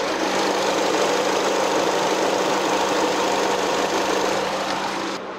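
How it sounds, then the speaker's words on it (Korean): An open-hood Renault Samsung SM5 midsize sedan idles steadily at close range, a continuous even engine hum with light mechanical ticking that holds for several seconds, then eases slightly at the end. "엔진 소리 바로 들려드릴게요."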